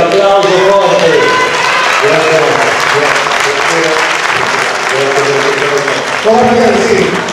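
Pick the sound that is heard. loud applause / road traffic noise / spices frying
loud applause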